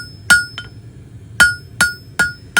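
Hammer blows ring sharply on hot steel over an anvil while a basic hook is forged, five or six loud metallic strikes spaced unevenly, one lighter tap between them, above a low shop rumble.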